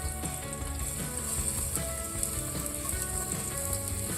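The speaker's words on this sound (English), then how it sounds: "Get the onions to sweat a little bit." Garlic, onion and cilantro sweating in a hot pan give a continuous soft sizzle and hiss, mixed with steady tonal background sound.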